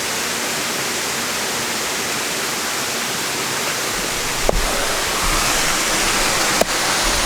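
A waterfall at the Fiery Gizzard gives a steady, dense, even rush of falling water that fills the whole span, with two brief sharp clicks near the end and no voices.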